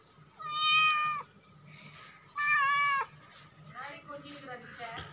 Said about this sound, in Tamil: எங்கள் வீட்டுக்கு ஒரு பூனை வரும்,